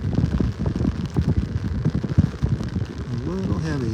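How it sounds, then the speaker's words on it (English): Light rain growing heavier pattering on an umbrella at a North Naples, Florida beach, a steady close patter under a man's speech, with louder drops near the end. "Rain's getting a little harder now."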